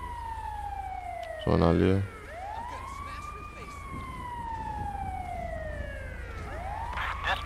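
A wailing ambulance siren from the video game GTA 5, sweeping up and down over a steady background, with a brief burst of speech near the start and the siren continuing through the clip.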